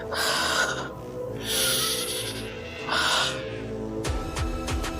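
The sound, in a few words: someone breathing behind a door, story sound effect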